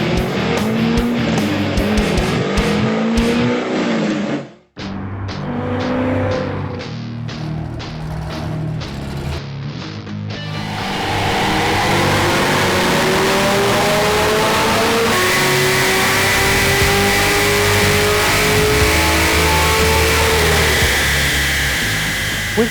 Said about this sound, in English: strap that Z06 to the dyno and get some baseline numbers